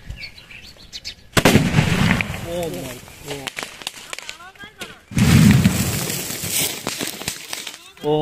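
Two sharp, loud blasts a few seconds apart, Diwali firework shots exploding inside a plastic drum, each a booming burst with crackling debris, separated by quieter rustling and faint chirps.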